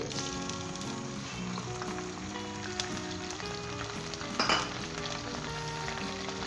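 Chopped ginger and garlic sizzle in oil in a frying pan, a steady, close crackling hiss that runs throughout, with a brief clink of a utensil partway through; no one talks.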